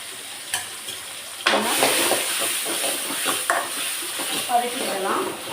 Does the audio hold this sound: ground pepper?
yes